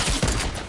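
A single loud, dense gunshot burst from a sniper rifle in a video game, filling the moment with a harsh crack and booming low end.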